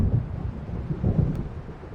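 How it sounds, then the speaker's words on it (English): Low distant thunder rumbles from an approaching storm in Alan Wake Remastered, a steady deep roll with soft swells and no voices. "It seems there's a storm coming."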